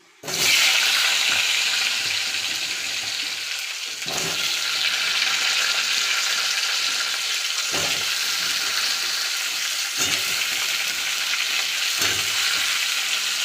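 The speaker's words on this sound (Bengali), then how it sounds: "এখানে আমি শুকনো লঙ্কা আর পাঁচফোড়ন সম্বার দিয়েছি।" Dried red chillies and panch phoron sputter in hot oil for a pumpkin greens and prawn dish, a loud, close, continuous sizzle broken by a few sharp clacks of a spoon against the pan.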